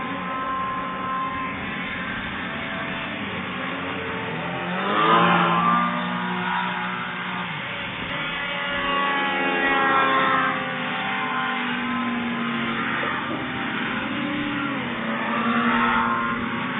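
Racing hovercraft, number 53 with a freshly repaired skirt, running laps on a track at a national hovercraft race; a steady loud engine and fan drone with rising surges as craft pass, broad and continuous throughout.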